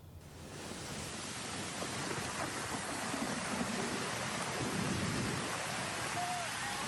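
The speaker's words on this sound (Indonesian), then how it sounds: "hujan deras yang mengguyur wilayah Bogor, Babakan Madang, Kabupaten Bogor, Jawa Barat" Heavy rain pours down in Babakan Madang, Bogor, West Java, a steady, dense roar of water with low rumbling underneath that may be thunder, continuous and loud throughout with no voices.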